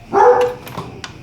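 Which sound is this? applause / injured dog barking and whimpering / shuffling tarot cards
injured dog barking and whimpering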